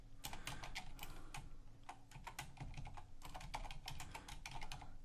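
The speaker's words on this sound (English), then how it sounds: "I'll be looking at that pay stub, typing in those numbers" Steady, fast typing on a computer keyboard while numbers from a pay stub are entered into a spreadsheet, with close, crisp key clicks in quick bursts and brief pauses and no voices.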